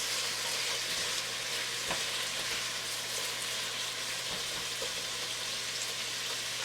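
A pot of chicken, vegetable and couscous soup on the stove, giving a steady close bubbling sizzle with a faint clink or two from the stirring spoon throughout.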